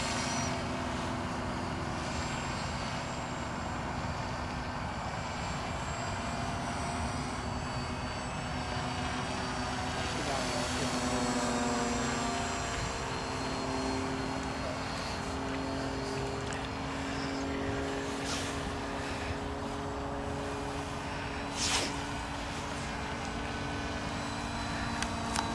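A Firstar V2 model airplane engine held at full throttle, a steady, fairly faint high-pitched whine that drones on evenly with little change.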